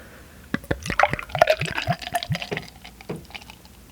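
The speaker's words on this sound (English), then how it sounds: "So I gave that a hard pour like I always do." Dogfish Head 120 Minute IPA beer is poured hard into a glass close to the microphone, a short run of gurgling glugs and splashes that settles into fizzing.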